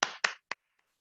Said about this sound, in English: with a big round of applause, please welcome our President